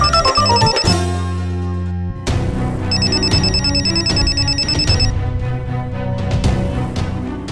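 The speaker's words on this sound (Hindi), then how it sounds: "उन्हीं का फोन है, क्या करूं?" An electronic phone ringtone plays loudly and continuously, a bright repeating melodic chime with a brief pause before the tune resumes.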